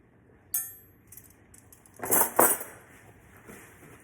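Metal cutlery, a spoon, knife and fork, set down on a table one after another, giving a bright ringing clink followed by a cluster of louder clattering clinks, close and distinct against near silence.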